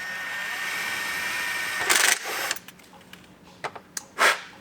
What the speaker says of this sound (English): Get our holes drilled through there.